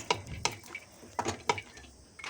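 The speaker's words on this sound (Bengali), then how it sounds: "কড়াইয়ে ঘি দিয়ে কিছু ড্রাই ফ্রুট ভালো করে নাড়াচাড়া করে ভেজে নিচ্ছি।" A utensil scrapes and clinks against a wok while almonds, cashews and raisins are stirred and fried in ghee, giving a handful of separate knocks in an uneven rhythm, quiet and close.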